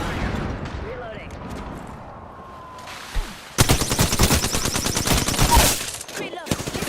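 Video game gunfire in a tactical shooter: a sudden, loud burst of rapid automatic shots starts partway through and keeps going, with quieter game ambience and scattered effects before it.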